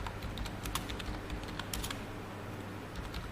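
Keys clatter steadily on a computer keyboard during an online poll, a run of close, rapid clicks over a low hum with no talking.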